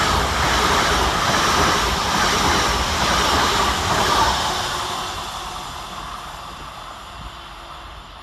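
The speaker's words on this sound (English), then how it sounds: "Next pass through the station for Transpennine Express is 802213, working 1 Sierra 56 from Manchester Airport to Carlisle." A TransPennine Express class 802 train runs through a station in thick fog, a loud broad roar of wheels and passing carriages that gradually fades as the train recedes.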